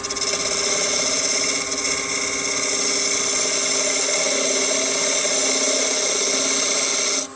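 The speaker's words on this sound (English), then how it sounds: "I'm starting with a 1/8 inch parting tool." A 1/8 inch parting tool cuts into a spinning segmented wood bowl blank on a lathe, giving a loud, steady high-pitched whine with a broad hiss that holds unbroken for about seven seconds and then cuts off.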